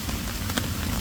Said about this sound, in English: I think this is the worst rain that we've had this year so far.